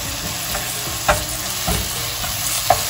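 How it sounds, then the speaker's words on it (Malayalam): Ketchup poured into a pan of sizzling tomato and onion mixture for homemade pizza sauce, with steady frying hiss, a few soft stirring clicks and scrapes standing alone without talk. "കെച്ചപ്പ് കൂടെ ഒഴിച്ചു"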